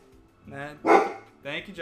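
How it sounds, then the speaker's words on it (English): A dog barks a few times close by in a video game, sharp bursts mixed in with talk. "That's my dog"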